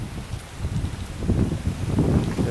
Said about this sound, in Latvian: Tāpēc pūš visu laiku vējš.